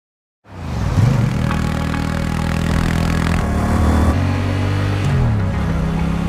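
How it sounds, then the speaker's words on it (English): A Honda Rebel 1100 motorcycle engine starts up and settles into a loud, close, throbbing idle with a couple of brief revs, heard alone. "The Honda Rebel 1100."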